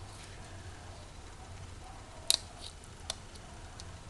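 Scissors cutting open a package give a quick double snip and one more faint click later, over a steady low background hum.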